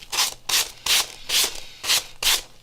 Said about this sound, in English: I'm going to sand again.